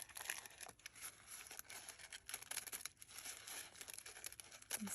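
Sewing pattern paper being cut down with scissors, a steady crinkling and tearing rustle with repeated snips, close and fairly faint, no talking.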